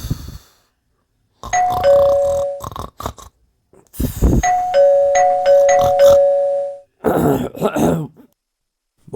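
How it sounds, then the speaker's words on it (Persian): A doorbell rings twice at a friend's house, a loud two-tone electronic chime repeating in long bursts, with short noises in the gaps and a voice at the end. "به نظرتون واکنشش چیه وقتی زنگ در خونهشو بزنم؟"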